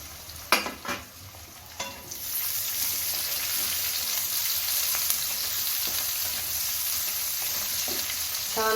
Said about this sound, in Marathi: कांदा छान असा लाल परतून घेतल्यानंतर आपण ही मिरची परतून घेऊ.